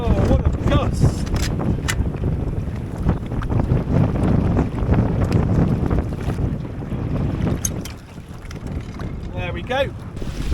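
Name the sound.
strong wind gusts on a boat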